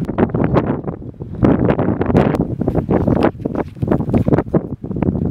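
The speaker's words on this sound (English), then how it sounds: "It's very windy right now" Strong wind in the Mojave Desert buffets the microphone in loud, uneven gusts that roar and rumble continuously across the whole stretch, with no voices.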